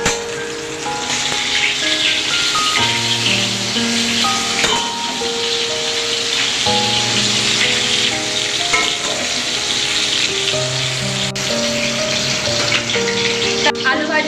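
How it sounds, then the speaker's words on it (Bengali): Sliced potatoes, pointed gourd and eggplant fry in hot oil while a holiday family meal is cooked; a steady loud sizzle runs throughout beneath prominent background music. "আলু ভাজা আর পটল ভাজা হচ্ছে।"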